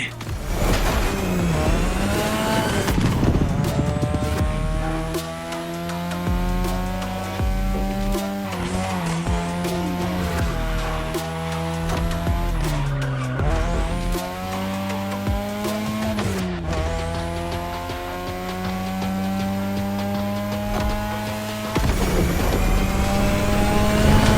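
Race cars in the video game The Crew Motorfest, engines revving up and down through gear shifts with repeated tire squeals and skids, loud and continuous throughout.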